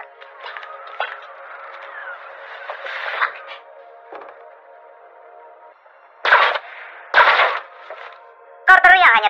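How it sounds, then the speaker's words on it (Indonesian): Several sharp gunshots crack out in a quick series, with ringing echoes between them over a faint background hum. "bahkan menembak pistolnya ke arah Carter"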